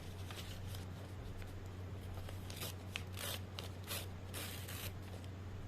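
Scissors cutting paper into parts, a series of crisp snips and rustling strokes repeating through the clip over a steady low hum, close by and fairly quiet, with no voices.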